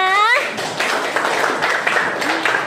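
Students applaud together in a classroom, a brief burst of clapping that carries on under a speaking voice.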